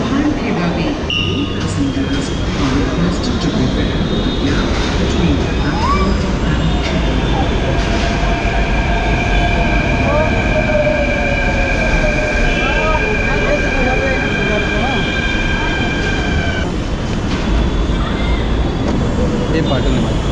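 A Mumbai local train runs through a long steady rumble, with a station announcement and a crowd's murmur over the noise of the carriage.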